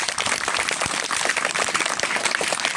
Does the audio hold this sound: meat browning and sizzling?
no